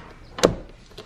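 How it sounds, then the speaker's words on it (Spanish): A door being pushed partly closed gives one short, fairly loud thud-like knock with a brief rattle, followed by a faint light click a moment later in an otherwise quiet room. "Voy a hacer un poquito así la puerta."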